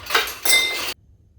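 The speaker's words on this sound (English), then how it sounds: "We're gonna add our ice to the blender first." Ice cubes tumble into a blender jar in two bright clattering bursts, a sharp rattle and then a longer clinking pour, close and loud, followed by quiet.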